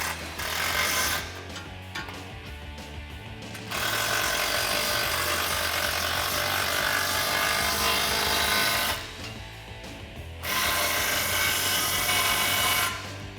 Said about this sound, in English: just grab your gun or your ratchet and go ahead and send them home